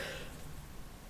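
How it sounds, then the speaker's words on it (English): A woman clears her throat once, soft and close, just before a cough, against steady low room noise and no speech. "Excuse me, sorry, I was about to cough."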